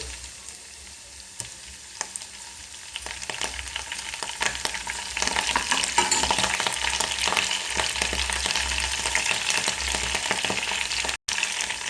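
Fresh curry leaves hit hot oil for a cucumber dal tempering, setting off a loud, crackling sizzle that builds after a few seconds and stays busy with spitting pops and stirring.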